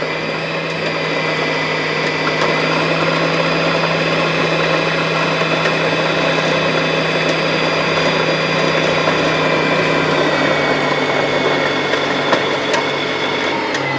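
A domestic sewing machine motor runs steadily while winding a bobbin, a continuous even whir with a faint mechanical hum that holds at a constant level for the whole stretch, close by and with no talking.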